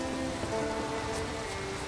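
Rain in Skellige in The Witcher 3, a dense, steady hiss of falling rain mixed with wind and soft game music, continuous and fairly loud.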